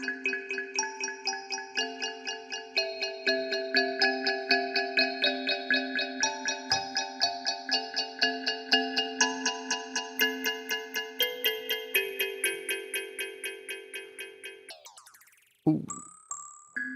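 A kalimba app on iOS, Kalimba Keys, plays its Astral Plane preset: a dense, shimmering cascade of plucked tine notes ringing over one another for about fifteen seconds, then a brief swooping glide and a few final plinks.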